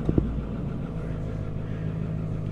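A Ford Powerstroke 6.4 diesel engine fires up on a cold morning of about 35–40 degrees after its glow plugs warm, two quick cranking thumps at the start settling into a steady, loud, low idle rumble.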